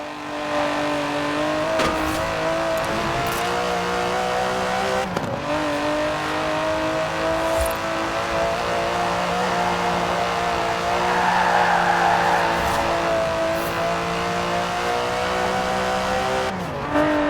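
A powerful Aston Martin DB11 sports car engine, a 5.2-litre twin-turbo V12 in the video game Forza Horizon 4, roars steadily at high revs, with brief shifts in pitch as it changes gears.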